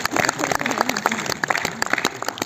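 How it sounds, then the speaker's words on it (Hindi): Audience applause welcoming a guest, a casting director, at a film festival in Hisar, Haryana: steady dense clapping from a close crowd that holds evenly throughout. "आपके जोरदार तालियों के बीच"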